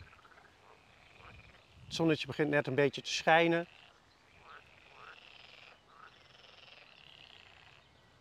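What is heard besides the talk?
frogs croaking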